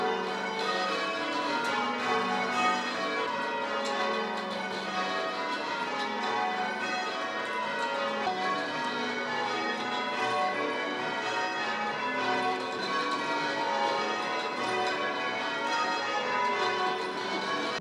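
Church tower bells ring in a dense, continuous peal, overlapping tones sounding steadily and fairly loud for the whole stretch with no voices.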